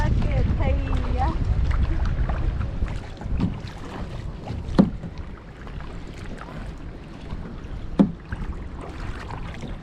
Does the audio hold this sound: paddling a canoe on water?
yes